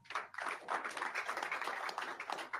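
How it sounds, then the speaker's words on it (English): Faint, distant clapping fills a press conference room, a continuous patter of many hands with no speech over it. "Another round of applause for him."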